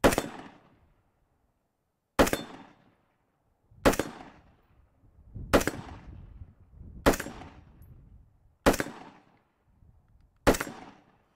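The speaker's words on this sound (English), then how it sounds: "We're going to shoot the action targets green spinner plates," A Wyoming Arms AR rifle with a Bushnell scope fires seven spaced shots at 75 yards, each a sharp crack with a ringing clang from green steel spinner plates and a short decaying echo.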